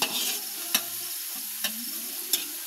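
Paella cooking in a pan in a garden kitchen, a steady close sizzle of frying under several sharp scrapes and clacks of a spoon stirring through the rice.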